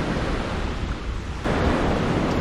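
Ocean waves wash onto a beach by a hotel in Puerto Rico, a steady broadband roar of surf that swells louder partway through, mixed with wind noise and no speech.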